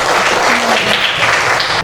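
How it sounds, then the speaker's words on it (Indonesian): Applause fills a classroom where pupils are studying the story of the Prophet Muhammad building Medina. Steady, dense clapping runs close and loud for the whole stretch, then cuts off abruptly near the end. "tepuk tangan untuk kita semuanya"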